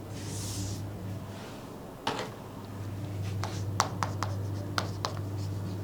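Chalk taps and scrapes on a board during a biology lecture, with short strokes and clicks over a steady hum in a quiet classroom.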